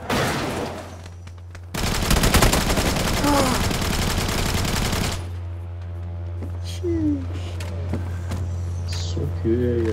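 Automatic gunfire from a weapon in the New State Mobile video game, a dense, continuous rapid-fire burst of loud shots lasting a few seconds, set among other game sounds and chirping effects.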